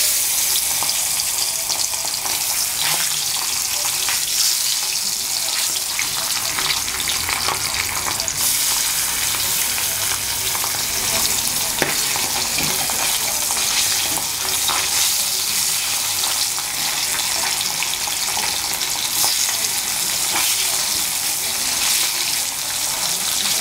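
Pabda fish frying in hot oil in a wok, a steady, loud sizzle and crackle running throughout with occasional stirring bursts.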